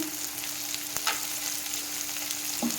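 Coriander and mint leaves sauté in oil for a brinjal biryani, giving an even close sizzle with a low steady hum beneath and a couple of light utensil taps.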